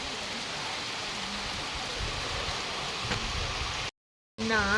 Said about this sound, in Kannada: ಎಷ್ಟು ಜೋರಾಗಿ ಮಳೆ ಬರ್ತಾಯಿದೆ ಅಂತಂದರೆ ತೋರಿಸ್ತೀನಿ ನೋಡಿ.